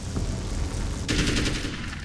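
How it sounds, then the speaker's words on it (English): Rapid automatic assault rifle fire spraying at spiders in Alan Wake's American Nightmare, a dense burst of gunshots beginning midway and continuing loud to the end over low game ambience. "assault rifle to take out these spiders"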